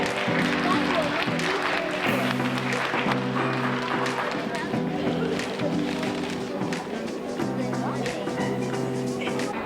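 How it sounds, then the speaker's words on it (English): An audience at a school family literacy night gives a round of applause, dense continuous clapping with a repeating musical tone pattern running underneath throughout. "I want you guys to give her a round of applause"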